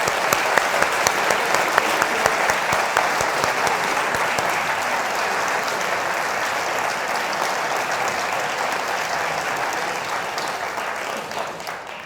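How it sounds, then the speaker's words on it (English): An audience gives a sustained round of applause at a university tribute event, dense, steady clapping lasting the full length, slightly thinning toward the end, with no speech over it. "I would ask you to join me in a round of applause to Bob Harris for what he did."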